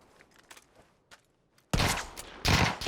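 Gunfire in PUBG: faint distant shots and footsteps at first, then two loud close bursts of automatic fire in quick succession.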